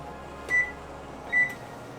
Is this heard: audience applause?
no